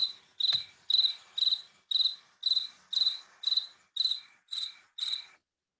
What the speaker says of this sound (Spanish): si nuestro amigo el grillo es el que toma la palabra